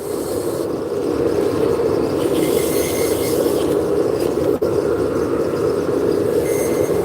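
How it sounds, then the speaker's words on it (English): Wood being sanded on a lathe as a turned wooden finial spins, giving a steady, continuous raspy rubbing that runs close and even throughout, with only a brief dip near the end. "Now we're going to just sand out the finial."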